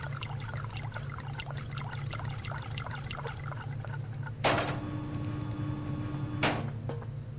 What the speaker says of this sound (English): let's drink all that water, and then we'll refill these guys